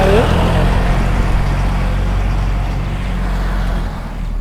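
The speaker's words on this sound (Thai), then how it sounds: "รถไถ" A tractor working near rice fields in rural Thailand gives off a loud, steady low engine rumble that fades slightly toward the end.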